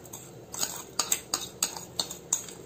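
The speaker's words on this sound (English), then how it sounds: "I'm going to give a thorough mix" A spoon stirs sugar into cheesecake mixture in a bowl, sharp rhythmic scraping clinks repeating about every third of a second, close and clear, with no voices.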